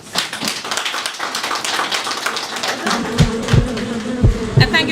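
Honey bees at a hive give a steady buzzing drone, with irregular low thumps and knocks growing louder in the second half.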